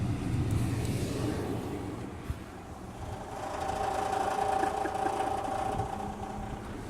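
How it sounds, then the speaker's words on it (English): A worn car engine idles with a steady low mechanical clatter while the air conditioning runs, a faint continuous hum and rattle with no talking. "If I cut the air on, it's gonna start clacking and shit."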